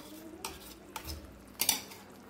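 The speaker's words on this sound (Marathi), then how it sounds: "व्यवस्थित मिक्स करून घेऊया।" A spoon stirs spinach gravy in a pan, quietly and close, with a few light scrapes and clinks against the metal over a faint background hiss.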